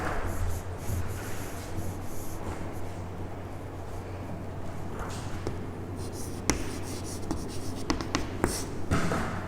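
Chalk or marker scratches and taps across a classroom board while events for a probability lesson are written out, a continuous rubbing texture broken by small sharp knocks, close and moderately loud with no talk.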